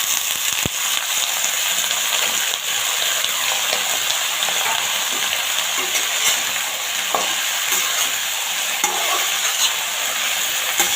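Blanched broccoli frying in a hot pan, a continuous bright sizzle and crackle with occasional stirring knocks, close and steady throughout.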